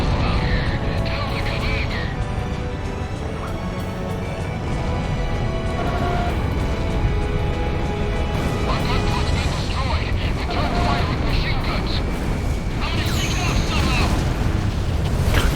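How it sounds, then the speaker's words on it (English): Explosions in the Ace Combat 6 flight combat video game, a loud continuous barrage of booms and blasts layered over engine roar and battle effects, with no pause across the stretch. "Can't see shit with all these explosions."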